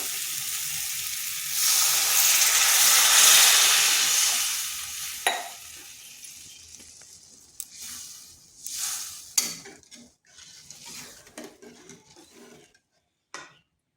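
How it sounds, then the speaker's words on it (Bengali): Water poured into a pan of fried spice paste for a pumpkin and red lentil dish, hissing and sizzling loudly at first, then easing into softer bubbling with a few clinks of a spoon against the pan. "মশলাটা কষানো হয়ে গেছে। দিয়ে দেব জল।"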